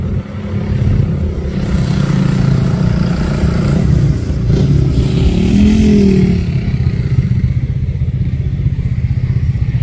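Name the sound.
Bintang palm oil truck 6x4 engine climbing hill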